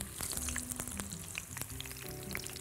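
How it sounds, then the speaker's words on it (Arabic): Garlic and ginger frying in a wok of hot corn oil with a little sesame oil, giving a soft, continuous crackling sizzle with scattered light pops, fairly quiet and close. "هحط في معلقه الزيت دي الثوم، بسم الله الرحمن الرحيم، والجنزبيل"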